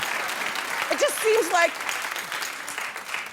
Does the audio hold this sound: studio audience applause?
yes